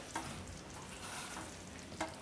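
Hot oil heating in a pan for a Gujarati kadhi tempering gives a steady, soft frying hiss, close and fairly quiet, with two brief clinks near the start and end.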